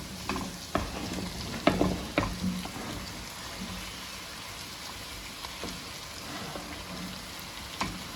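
Potatoes going into half-cooked vegetables frying in a pan, with a few sharp thuds and clatters early on, then a low, steady sizzle and faint stirring at a modest level.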